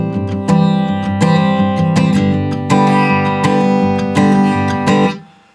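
Strummed acoustic guitar chords ring out in a steady rhythm with accented hits, playing the intro of a song, loud and close, fading at the end.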